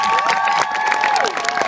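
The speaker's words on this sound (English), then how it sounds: "How about a nice round of applause for Zach Lovery?" Crowd cheering and clapping at a knights show, loud and close, with shouting voices and whistles over dense applause in a short burst.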